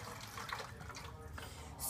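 Marinade is poured over a pork roast, making a soft, steady trickling and splashing of liquid that runs continuously and stays fairly quiet and close.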